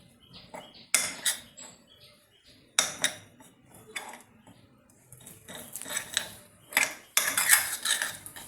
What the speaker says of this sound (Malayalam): അത് ഇതിലോട്ടിട്ട് കൊടുക്കാം. നമുക്കതൊന്ന് മിക്സ് ചെയ്യാം.